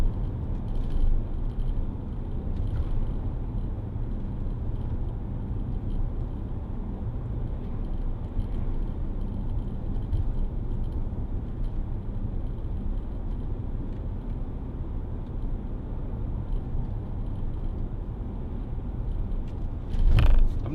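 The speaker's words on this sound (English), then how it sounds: "I'm not sure where that rattle comes from, that camera equipment" Inside a moving 2010 Land Rover Discovery 4 3.0 TD V6 HSE, steady road and engine rumble fills the cabin, with faint light rattling of camera equipment throughout and a sharper clatter at the very end.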